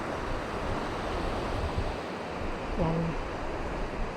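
Ocean surf washes in a steady, dense roar with wind noise over the microphone. A person briefly speaks faintly under it.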